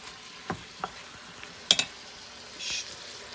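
Faint, scattered clicks and soft scrapes from lasagna being stirred inside an Instant Pot, with a brief hiss near the end in a quiet room.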